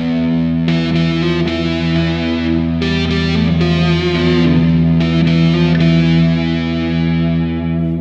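Heavily distorted electric guitar playing an opening riff built on a Phrygian lowered second; loud and sustained with droning low notes and repeated chord stabs, no voices.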